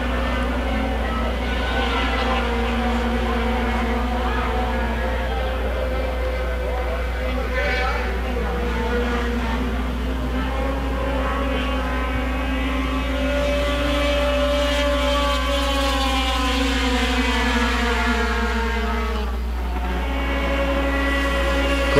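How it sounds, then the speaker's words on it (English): Snowmobiles race in a Sport Formula 500 heat, a steady loud engine drone with rising and falling pitch sweeps as sleds pass, under continuous race commentary. "Stefan Carrignan out of Winnipeg on the number nine skidoo, making things interesting up front."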